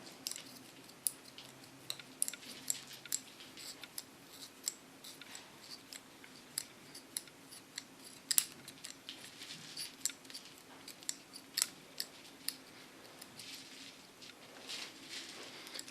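Scissors slice-cutting hair for an ultra-short platinum pixie cut, giving quiet, close, irregular snips and crisp swishes over a faint background, with no talking.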